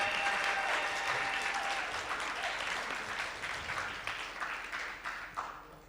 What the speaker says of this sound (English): Can we get a huge round of applause for all of these writers?